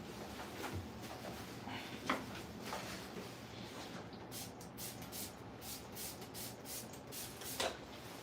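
Several quick hissing bursts of grooming spray mist onto a curly-coated dog's coat, faint and close, in a quiet room.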